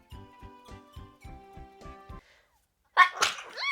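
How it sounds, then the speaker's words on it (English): After a series of soft, rhythmic squeaky pulses and a brief pause, a single sharp sneeze breaks out close to the microphone. "I have to go sneeze."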